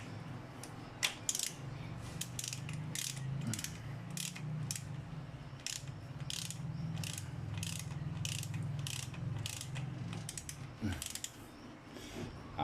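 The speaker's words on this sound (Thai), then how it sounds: "เดี๋ยวขออนุญาตขันน็อตให้มันตึงก่อนนะครับ" A ratchet wrench tightens cylinder head bolts during assembly of a Toyota Altis Duo ZR-family engine, giving bursts of quick, sharp clicks in steady runs over a low background hum.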